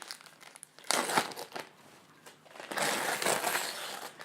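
Gift wrapping around a wine bottle crinkles and tears in two bursts of papery rustling, close and moderately loud, with a quiet pause between them.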